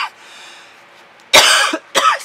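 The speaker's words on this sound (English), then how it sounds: "Excuse my pollen cough." Two sharp, loud pollen-allergy coughs close to the microphone follow a quiet breathy stretch, the second cough shorter than the first.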